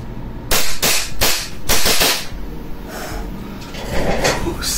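Army Armament Staccato R611 airsoft pistol firing several sharp close shots with snappy blowback cycling, followed by quieter handling clicks.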